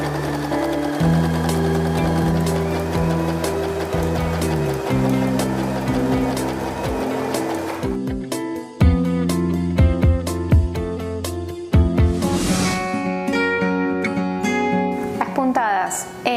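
A Janome 311 or 3112 sewing machine stitching fabric, a steady close mechanical whir with rapid needle ticking that continues throughout, pausing briefly and then resuming with sharper clicks.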